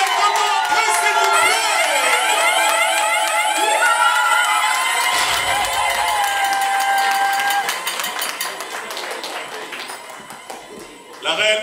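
A crowd at a woman's 50th birthday party claps and cheers loudly, with excited voices and festive music mixed in, the clapping thinning toward the end.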